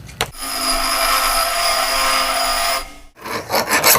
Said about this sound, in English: Now the fun part, tapping cast iron.